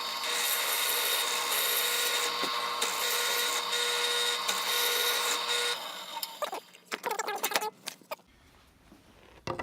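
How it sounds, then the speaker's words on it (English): A power drill with a 3/4 inch Forstner bit bores into wood with a steady, loud grinding whir for several seconds, then irregular scraping and clunks before falling quiet. "So I'm ready to drill the hole out. This is the 3/4 inch Forstner bit"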